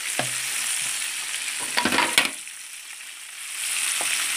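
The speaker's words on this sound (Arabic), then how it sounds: "نشوف معانا هنا السمك اهو اتحمر" Tilapia fish frying in hot oil for a sayadeya dish gives a steady, close sizzle and crackle, with a short burst of clattering stirring noise partway through and no talking.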